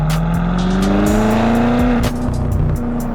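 BMW M8 Competition with an eight-speed dual-clutch transmission accelerating hard, loud engine note climbing steadily in pitch with a brief dip at a gearshift near the two-second mark before pulling again, no talk.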